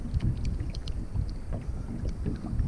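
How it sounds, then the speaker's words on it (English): Gusty wind buffets the microphone on a small fishing boat out on the water, a low rumbling roar with faint knocks and no one speaking. "This wind must don't know that March is out."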